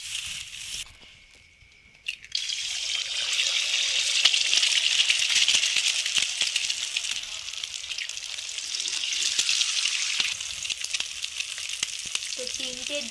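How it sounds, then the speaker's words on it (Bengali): Eggs frying in hot white oil in a wok: after a brief quieter start, a loud, steady sizzle bursts in and holds with crackling spatter throughout, with no talking. "এবার ডিমটা ভেজে নেব।"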